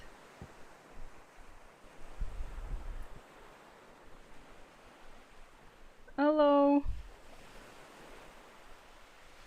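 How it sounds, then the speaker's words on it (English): Ocean waves ambience plays as a soft, steady surf wash in the background throughout, while a person speaks and greets over it and a brief tonal blip sounds midway. "I didn't have any good music to put, so just went with some uh, waves ambience."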